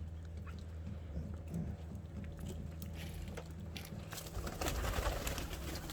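Pigeons coo softly and repeatedly in low, rolling calls, with rustling, fluttering and faint background noise around them.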